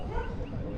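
A brief burst of several large dogs barking together, belonging to separate groups of various breeds in Spain, set against a dense, noisy background.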